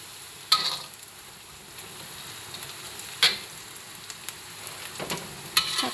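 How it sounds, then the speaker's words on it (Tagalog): Garlic and onion sauté in a pan for a home-cooked chicken curry puff filling, a steady low sizzle with a few sharp stirring scrapes spaced out over it. "Gisa lang po natin siya hanggang maluto yung garlic at saka yung onion."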